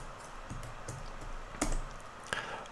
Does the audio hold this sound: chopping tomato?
no